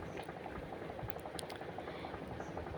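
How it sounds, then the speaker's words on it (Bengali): Bay leaves and dried chillies tempering in hot oil make a dense, bubbling sizzle that stays steady and fairly quiet, close by, with a few brief sharper pops on top and no talking. "এই যে আমি ফোড়নের মধ্যে এখানে তেজপাতা আর শুকনো মরিচ দিচ্ছি।"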